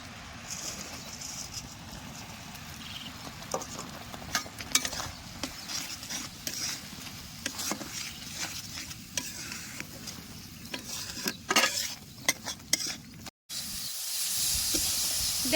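Lentil powder is stirred into sticky sugar syrup in a pan while making matar dal laddu in a village kitchen, a steady scraping and sizzling stir that runs close and continuous, with faint birdsong behind.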